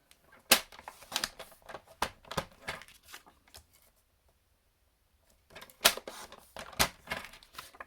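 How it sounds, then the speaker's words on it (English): Card pieces are trimmed on a paper trimmer in a craft session, sharp slicing strokes and rustling card in two close bursts separated by a few seconds of near silence. "I've just realised my pieces are too wide, so I'm just going to cut a little bit off there."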